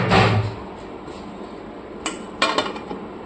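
A metal lid is set onto a pot of simmering mutton and potato curry, giving a few sharp clinks and taps late in the moment, after a soft clatter at the start, close by with no talk.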